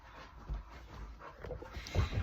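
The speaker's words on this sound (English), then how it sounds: "my dogs are behind me messing my bed up and wrestling" Two dogs wrestle on a bed nearby, with quiet, irregular panting and soft scuffling that rise slightly toward the end.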